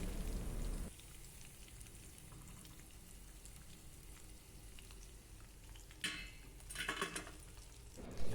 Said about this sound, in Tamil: எல்லா இறாலையும் இதுபோல் பொரித்து எடுத்துக்குங்க.